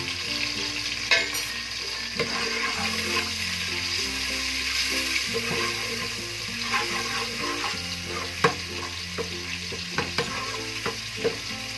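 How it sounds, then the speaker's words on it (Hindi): Ginger garlic paste sizzling in hot ghee for an arbi leaf and besan dish, a steady frying hiss with scattered stirring clicks and faint background music, no speech. "अब हम अदरक लहसुन का 1 चम्मच पेस्ट डालेंगे।"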